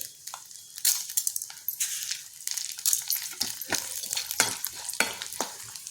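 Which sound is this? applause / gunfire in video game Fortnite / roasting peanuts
roasting peanuts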